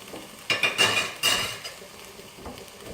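A little water hits a hot pan as it is deglazed, with a couple of sharp sizzling bursts and metallic scraping and stirring clatter. Quieter hissing continues between the bursts.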